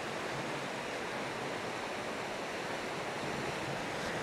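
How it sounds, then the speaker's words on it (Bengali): A fast-flowing river near a village in Mizoram rushes with a dense, steady roar of water, broadband and unbroken, with faint wind buffeting and no talking. "বেশ খরস্রোতা নদী। এখানে ভালোই স্রোত রয়েছে, যেহেতু ওপর থেকে জলধারা নেমে আসছে"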